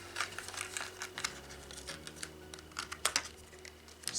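Paper being folded and creased by hand to seal a craft torch, a series of close, light crinkles and taps in an irregular rhythm over a faint steady hum, with no talk.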